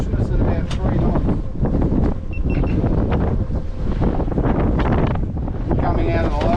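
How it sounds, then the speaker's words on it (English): Strong wind roaring across a small boat on the Logan and Albert rivers, a loud, constant buffeting rush against the microphone, with a voice talking over it throughout. "That wind is just ripping through."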